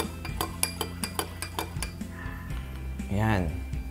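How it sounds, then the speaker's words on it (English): A spoon stirs ingredients in a glass, clinking sharply against the sides in a quick series of close taps, followed by a softer swirl; a voice speaks briefly near the end. "Ibigyan natin ng konting stir."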